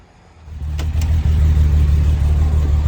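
A Mercedes-Benz 230 SL, said to have a 280 engine swapped in, accelerates on the road, a close, loud, low engine drone that builds up quickly and then holds steady, with no one talking.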